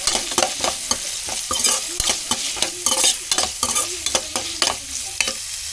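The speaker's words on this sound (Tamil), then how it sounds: "தக்காளி போட்டு நல்லா வணங்கி போட்டுக்கலாம்" Tomatoes sauté with softened onions in a pan for a mutton curry, a constant sizzle punctuated by quick, rhythmic spatula scrapes and taps, close and clear, with no talking.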